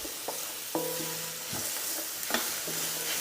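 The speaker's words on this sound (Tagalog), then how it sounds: "Igisa lang natin ito ng mga 30 to 35 seconds" Onion and Chinese sausage sautéing for pancit canton, a soft steady sizzle punctuated by a few sharp spatula taps and scrapes against the pan.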